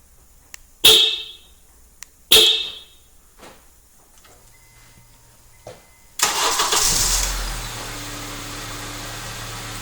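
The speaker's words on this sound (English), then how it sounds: "We're going to activate remote start." Two short horn chirps from a 2007-2011 Honda CR-V remote start, then the car engine cranks and starts at about six seconds, settling into a steady idle with a high fan whine.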